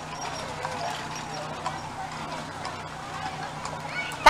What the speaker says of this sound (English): It's the Campbell Family and Friends Buggy Horse.